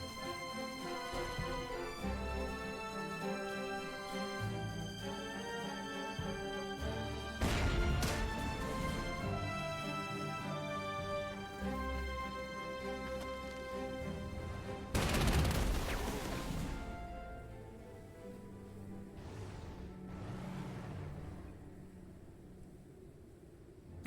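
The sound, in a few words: tank driving into minefield, explosions in video game Panzer Corps 2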